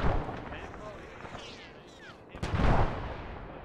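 Explosions and gunfire in the Arma 3 military game, with a sharp blast midway followed by a loud rumbling burst, over a busy background of scattered shots.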